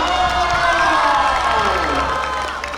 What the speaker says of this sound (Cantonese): 可唔可以俾啲掌聲？